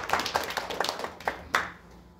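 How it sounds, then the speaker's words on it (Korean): A small group claps in encouragement at a church gathering for military service members, a few scattered hand claps spaced irregularly over about two seconds, moderately near and fading out. "다 같이 박수로 위로하고 격려해 주시기 바랍니다."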